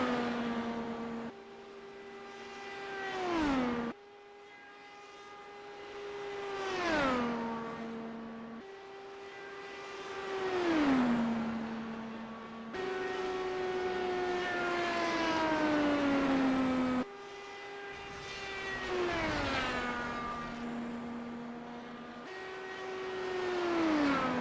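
A race car laps the track during a practice session, its engine revving loudly and winding up and down through the gears. It repeats in several cycles, with the pitch climbing and then dropping on each pass.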